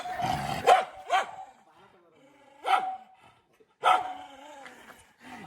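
A dangerous dog barks outdoors, three or four loud, separate barks at irregular intervals, fairly near, with a voice talking between and under them.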